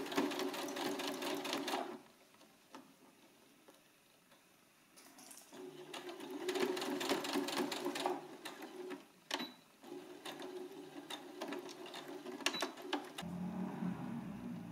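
A sewing machine stitches a small seam at the triangles of a down jacket, running in quiet bursts of steady rapid whirring separated by short pauses.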